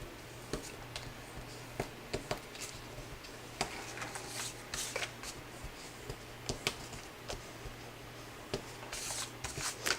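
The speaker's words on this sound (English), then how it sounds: "you just want to burnish all your tape down" Tape being burnished down onto a paper folio, a steady run of soft scratchy rubbing strokes and light ticks over a low constant hum, close up and quiet, with no talking.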